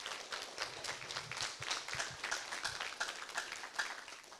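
An audience at a town council by-election forum claps steadily for several seconds, a dense wash of hand claps at moderate volume in an indoor hall, with no voices over it.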